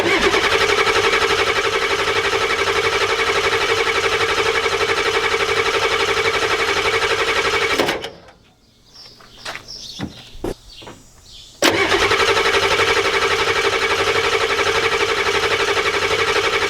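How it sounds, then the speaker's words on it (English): A 1993 Ford F-250 pickup with a 7.3 IDI diesel engine drones loudly for several seconds, cuts out into a short quiet gap with a few clicks, then roars back with the same steady engine noise. "Now I got to prime the injectors again."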